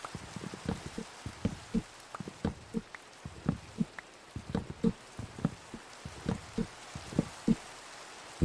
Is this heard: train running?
no